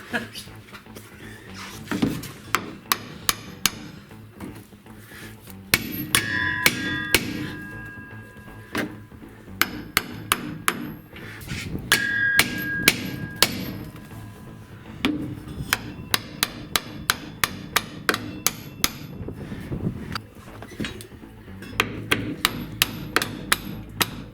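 Repeated sharp hammer blows ring out in irregular bursts, metallic strikes close by, with people talking in between, while installing a lift kit on a 2007 Ford Ranger.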